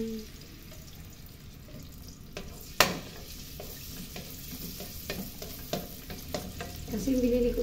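Garlic fries in cooking oil in a home kitchen pan, a soft continuous sizzle with scattered clicks of stirring, one sharp clatter, and a voice speaking briefly near the end.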